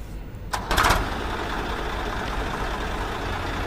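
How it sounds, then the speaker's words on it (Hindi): A 2008 Swaraj 855 tractor's engine runs in a steady, fairly loud diesel drone after a brief burst of louder rattling clatter near the start, continuing evenly to the end with no talk. "स्वराज 855 ट्रैक्टर की आवाज़ भी तुसीं चैक कर सकते हो।"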